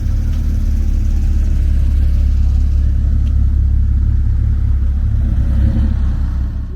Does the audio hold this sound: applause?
no